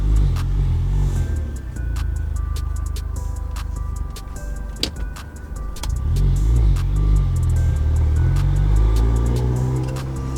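An Audi A4 B8 accelerates on a drive, its engine rumbling low and rising in pitch through two gear pulls, heard from inside the car with scattered ticks and clicks.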